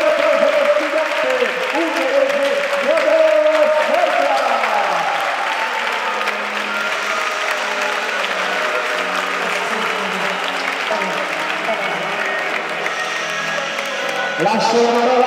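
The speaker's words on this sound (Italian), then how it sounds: "Facciamo un grande applauso per studente" Audience applause fills a boxing event hall after a bout, sustained dense clapping from a crowd for about fifteen seconds, with a voice speaking over it near the start and at the end.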